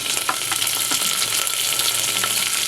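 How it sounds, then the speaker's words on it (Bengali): Onion, garlic, ginger and green chili pastes fry in a pan, giving a loud, continuous sizzle with faint scraping of stirring throughout, close up and with no voices. "মশলাটা খুব ভালোভাবে কষিয়ে নেব আমি।"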